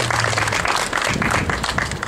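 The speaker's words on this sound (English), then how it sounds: "a round of applause." Audience applause at a donation center opening, dense steady clapping from a gathered crowd, close and fairly loud with a faint hum underneath.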